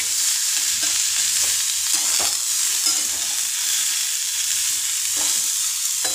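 A pumpkin vegetable dish with jaggery and coriander sizzles steadily in a pan while a spoon stirs and scrapes through it in repeated short strokes, close and continuous with no talking.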